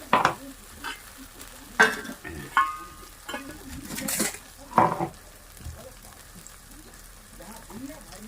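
Brinjal paste being stirred in a pan, producing intermittent scraping strokes and soft sizzling, with speech mixed in among the stirring.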